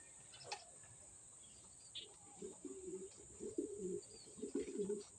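Racing pigeons cooing softly in a loft during a pigeon race, a rhythmic series of low throaty coos growing denser toward the end, faint and close over a steady high electrical whine and occasional chirps.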